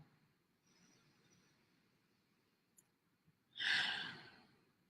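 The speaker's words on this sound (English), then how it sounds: "take a nice deep breath right now" A single deep breath drawn in and released as a long, breathy exhale close to the microphone, following a quiet, faint inhale.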